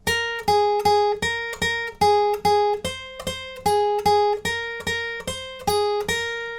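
Guitar playing the second line of a song's riff, with evenly spaced plucked notes repeating in a steady rhythm, each one ringing and decaying before the next, close and clear with no talking.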